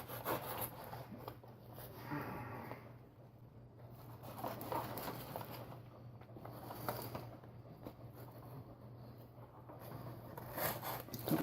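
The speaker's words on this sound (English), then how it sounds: "I'll just cut around the whole top and just make a flap out of it." A knife cuts around the top of a cardboard box, giving quiet, intermittent scraping and rasping strokes with soft rustles in between, close by in a calm room.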